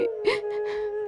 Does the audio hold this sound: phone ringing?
no